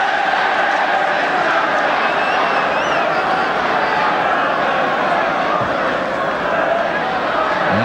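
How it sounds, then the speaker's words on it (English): A Coventry City home crowd roars during a December 1983 First Division football match against Liverpool. The dense, loud, continuous wall of cheering and chanting fills the stadium for the whole stretch without easing. "Just listen to this Coventry crowd."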